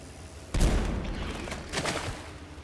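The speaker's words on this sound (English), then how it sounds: "let's just drop another grenade at its feet" A grenade goes off in the stealth game Dishonored: one sharp, close blast followed by a short rumbling tail and a second smaller burst about a second later.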